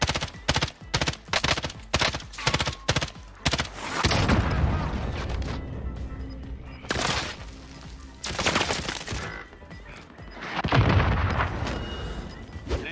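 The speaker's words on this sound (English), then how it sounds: "for those of you that were wondering what it looks like to get hit in the face with a rocket" A rapid series of punchy shots opens, followed by a heavy rocket explosion and several more booming blasts in the Warzone video game, loud and close with noisy rumbling between impacts.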